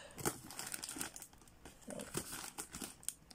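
Packaging tape being peeled and torn off a cardboard parcel holding a Dell thin client, with repeated crinkling, ripping bursts close by and no talk.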